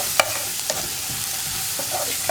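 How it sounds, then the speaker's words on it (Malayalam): Onion and turmeric stirred in a frying pan for a ridge gourd stir fry, with a steady low sizzle and a few soft spatula scrapes and taps scattered through it. "ഒന്ന് ട്രാൻസ്പെറൻ്റ് ആയി വരുന്നത് വരെ ഒന്ന് ഇളക്കി കൊടുത്താൽ മതി."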